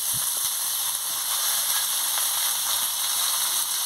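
Mixed vegetables for a Bengali chorchori fry in a pan while being stirred, giving a continuous soft sizzling hiss with faint scraping, close and steady.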